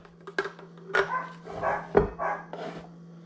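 A dog barks indoors in a home kitchen: several short, close barks in quick succession, loud and clear with no talk over them.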